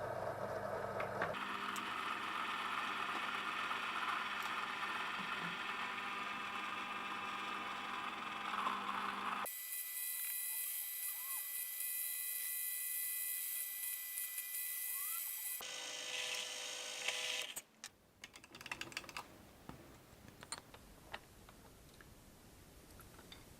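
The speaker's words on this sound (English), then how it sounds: "So now I just have to turn the machine on and drill these knobs." Drilling machine boring knobs for a homemade speargun line reel, made without a lathe: a steady high mechanical whine and hum running for long stretches, then shifting pitch, stopping, and giving way to clicks and handling noises.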